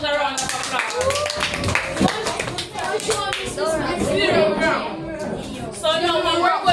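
A classroom of students giving a round of applause during a math lesson, a burst of close, uneven hand claps mixed with children's voices and chatter.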